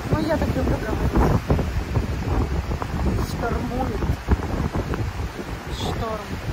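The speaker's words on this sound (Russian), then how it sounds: "И ветер, сильный ветер не прекращается." Strong, steady wind buffets the microphone on the stormy seashore of Djerba, Tunisia, with rough surf rumbling underneath while a person talks over the gusts.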